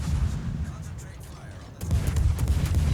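Heavy warship gunfire in the naval battle game World of Warships: a dense, continuous low boom and rumble that dips slightly, then a fresh, louder salvo breaks in near the end and rolls on.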